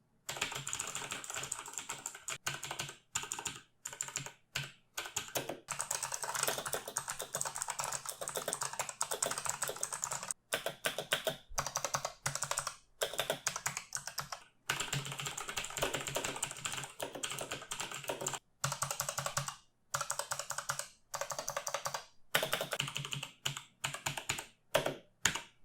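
Typing on a Razer Huntsman Elite keyboard with Razer green switches, dense clicky keystrokes in bursts broken by short pauses, close up and with no talk.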